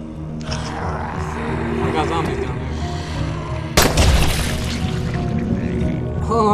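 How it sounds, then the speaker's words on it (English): A sharp pistol shot rings out midway through a dense Dying Light zombie scene, loud and close over a steady rumbling game backdrop with some talk. "I got 2 kills with a pistol."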